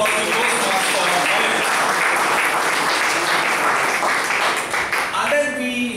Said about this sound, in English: big round of applause to Toastmaster.